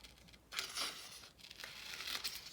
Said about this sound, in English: I just cut these shapes out using my scissors.